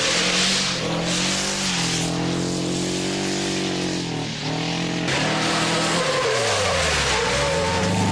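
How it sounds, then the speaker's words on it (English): An Opel Manta 400 rally car driving hard on tarmac, its engine revving up and down through gear changes with tire squeal, loud and close throughout with no voices. "For Jimmy McRae, it was a fantastic drive back up through the field to clinch 6th place in the new Manta 400"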